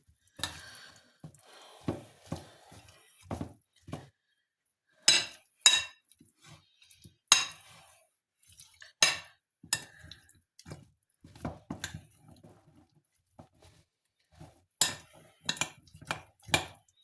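A spoon clinks and scrapes against a bowl while a bean salad with mayonnaise is mixed, irregular sharp taps and short scraping strokes with quiet pauses between them.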